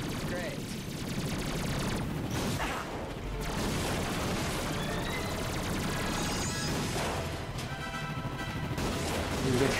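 Strafing gunfire from a Blarg dropship, the Model X6Z, in the Ratchet & Clank video game, a dense sustained burst of rapid shots with crashes over a noisy battle bed, with a voice talking along with it.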